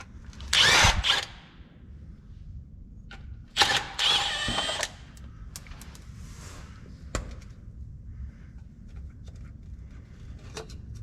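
An impact tool on a Dodge Cummins with a 48RE transmission, taking the transmission cover off. Two loud close bursts of rattling whir, each about a second long, are followed by softer clicks and clanks in a quiet garage.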